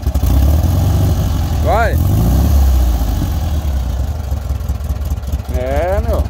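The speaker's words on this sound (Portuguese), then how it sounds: "Acelera aí pra nós com o barulho, meu." A Volkswagen Beetle (Fusca) engine runs loud and steady, revving close by throughout, with people talking over it.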